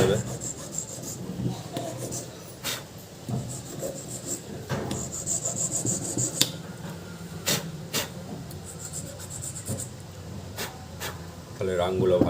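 Metal on an emergency light under repair is rubbed and scraped to clean it for soldering, a steady rasping scrub with sharp clicks and taps throughout, close and moderately loud.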